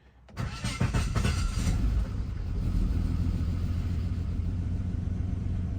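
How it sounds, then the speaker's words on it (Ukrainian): An Opel Vectra C engine cranks briefly and catches, settling into a steady, close, loud idle rumble after a short burst of starter noise. "машина якось завелася"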